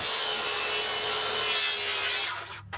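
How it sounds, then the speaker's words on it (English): A table saw cuts through scrap plywood with a close, steady, rasping whine that stays loud for over two seconds, then trails off abruptly at the end of the cut. "When that piece dropped off, then the saw wandered really bad."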